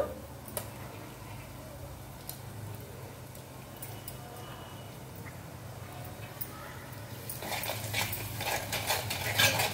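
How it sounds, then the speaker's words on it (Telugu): Egg masala curry stirred in a pan with a spoon, soft scraping and faint sizzling under a low background hum, growing a little louder and busier near the end, with no voices. "ఇలా తిప్పేసామనుకోండి చక్కగా కలిసిపోతుంది."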